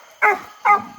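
A hound dog barks at a raccoon up in a tree on a hot summer night, with two loud, close barks about half a second apart and nothing else heard.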